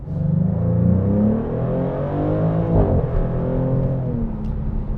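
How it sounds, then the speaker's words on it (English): Exhaust of a 2024 Maserati GranCabrio Trofeo in Sport mode, a loud steady engine rumble with shifting harmonic tones that rise and fall across the span, running alone without talk. "This car sounds amazing. The exhaust note is beautiful, and this is only in the Sport mode."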